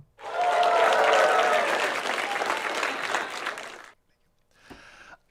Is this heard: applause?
yes